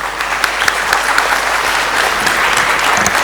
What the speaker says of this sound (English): A big round of applause for our wonderful speakers.